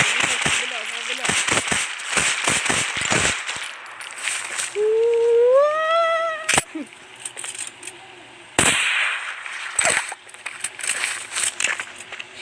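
Grenade explosions in a Minecraft zombie mod, heard as a rapid string of sharp, loud bangs and cracks, then a rising whistling tone midway and a few more isolated blasts.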